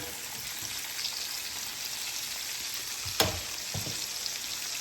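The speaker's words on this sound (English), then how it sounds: "we want to baste with butter. Drop some butter in there. Get it moving around a little bit." Butter sizzles and crackles steadily in a hot pan as a ribeye steak is basted, a close frying hiss with a couple of sharp clinks from the pan.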